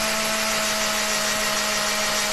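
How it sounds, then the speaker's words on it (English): A power drill with a 3/16 inch bit bores into a small wooden ball, a loud steady whine with a constant pitch and no pauses or talking. "I have a 3/16 inch drill bit, and I'm going to drill a hole down in"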